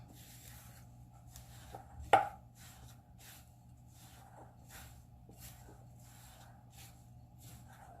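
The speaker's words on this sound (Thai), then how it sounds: "ผสมให้เข้ากันเลยนะคะ" A sugar mixture for a dessert is stirred and mixed in a bowl, giving soft rhythmic scraping strokes roughly every half second, with one sharper knock near the start, all close and quiet.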